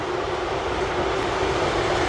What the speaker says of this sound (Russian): А тут поезд чешет.